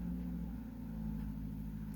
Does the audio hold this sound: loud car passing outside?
yes